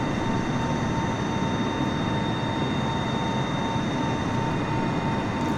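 A Boeing 747-100 Shuttle Carrier Aircraft takes off in Microsoft Flight Simulator, a loud, steady jet-engine roar with a constant high whine that holds without pause throughout.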